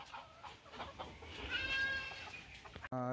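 A brooding hen in a brooding house gives a few drawn-out, close clucking calls over steady room noise, with a short different sound at the very end.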